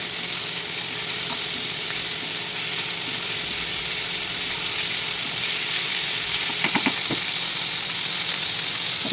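Ivy gourds hiss and sizzle steadily as they fry in a hot pan, a dense continuous crackle with a few brief clicks of stirring near the end, and no talking.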